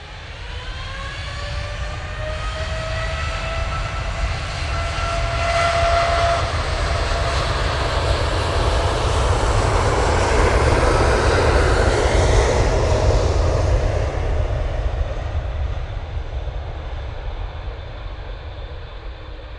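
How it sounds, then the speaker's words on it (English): Ryanair jet arriving at Manchester from Milan, its engine roar swelling to a peak midway then slowly fading, with whining turbine tones sliding downward as it passes close by. "Next in will be the Ryanair, going from Milan"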